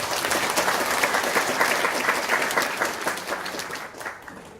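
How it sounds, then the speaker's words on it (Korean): An audience at a regional council policy forum applauds, a dense crowd of clapping hands that holds strong and then gradually tapers off toward the end. "박수 한번 더 보내주시죠."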